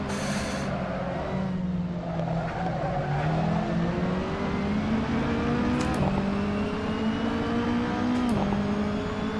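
Several racing cars in a racing video game, their engines droning loud and close in a steady whine that climbs and drops with gear changes, with faint tyre scuffs and clicks.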